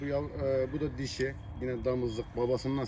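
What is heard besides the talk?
No everyday noises stand out.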